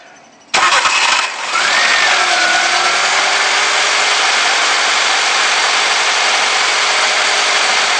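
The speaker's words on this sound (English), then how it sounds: "now we're going to see if the engine does start" After a quiet moment, a Nissan Micra K11 engine with a replaced ignition coil cranks briefly, catches and settles into a steady, loud idle that continues to the end.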